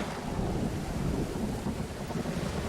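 Thunderstorm in the survival game Stranded Deep: a dense, continuous roar of heavy rain and wind with a low thunder rumble underneath, loud and steady with no voices.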